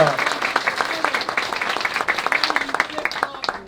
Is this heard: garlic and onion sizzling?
no